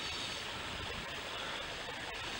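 Villa water features run with a constant broadband rush of splashing water, loud and unbroken throughout, at a beachfront property in Puerto Los Cabos.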